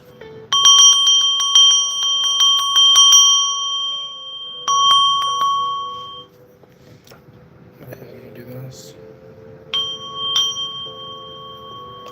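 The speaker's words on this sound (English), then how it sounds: "I'm going to hit the bell" A bell is struck several times in a quiet room during a live stream, its bright ringing tones sustaining and fading between strikes, with a later strike ringing out alone over low background sound.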